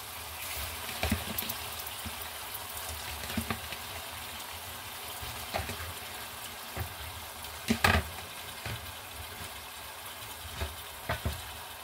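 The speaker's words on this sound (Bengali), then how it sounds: "হাড়টা রান্না করার জন্য মশলাটা কষিয়ে নিয়েছি" Spice masala sizzles steadily in a pan, cooked down to prepare a large bone, with a continuous low frying crackle broken by occasional scrapes and knocks of a spoon, close and without talk.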